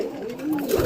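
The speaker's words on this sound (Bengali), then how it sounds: "আমার এখানে কিছু পায়রা আছে" A pet pigeon at home gives a single short, low coo close by, with a soft rising and falling tone and no talking.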